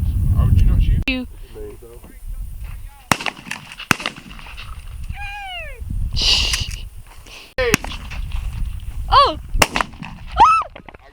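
Shotgun blasts during a dove hunt outdoors, several sharp, loud reports spaced across the clip, with excited voices and shouts around and between the shots.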